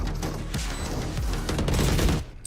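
Rapid gunfire bursts and impacts from the tactical shooter game Valorant, loud and dense throughout with several sharp transients before a sudden drop at the end.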